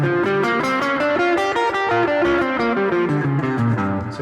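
Electric guitar runs through a blues scale with the added flat five, a steady stream of distinct, sustained single notes with an effects-tinged, slightly distorted tone, played alone and up close.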